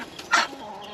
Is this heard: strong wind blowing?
no